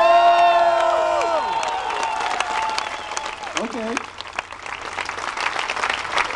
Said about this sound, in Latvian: Tagad mēs ar aplausiem noteiksim, kurš jūsuprāt bija labāks, runātīgāks, atraktīvāks.